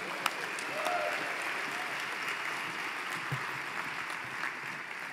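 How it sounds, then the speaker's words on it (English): An audience at a live music event claps continuously, a dense wash of applause from a crowd at moderate distance, holding steady throughout. "Give you all selves a big round of applause for being here."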